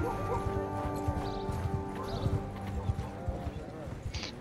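Horse hooves clip-clopping while riding in the video game Mount & Blade 2, a steady rhythmic trot under someone talking, with game music in the background.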